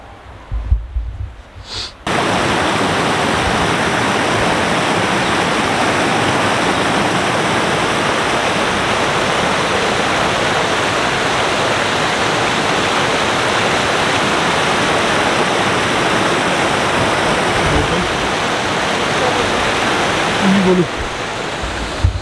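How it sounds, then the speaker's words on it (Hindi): Steady, loud broadband rush of a waterfall on a woodland walk in the Brecon Beacons, Wales, starting abruptly after a quiet opening and holding constant for about twenty seconds with a few faint handling bumps near the end. "इसमें आवाज़ आ रही है वाटरफॉल की, वैसे हम लोग वो आवाज को कैप्चर कर रहे हैं"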